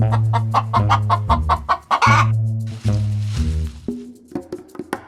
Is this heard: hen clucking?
yes